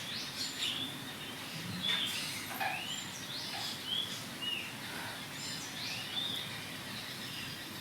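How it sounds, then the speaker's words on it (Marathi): Birds perched in trees on a bright morning trade high, bright chirps and sliding whistles. The calls repeat at irregular intervals, some near and some farther off, over a faint outdoor hush with a few soft taps. "सकाळचं कवळं ऊन आणि या पक्ष्यांचा आवाज"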